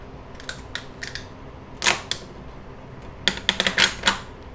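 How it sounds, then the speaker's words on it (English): A 3D print being pried off a Bambu Lab A1 build plate, heard as a scatter of sharp clicks and snaps, a pair of louder cracks near the middle and a quick burst of several close pops toward the end. "let's get this thing off the build plate and give it a try"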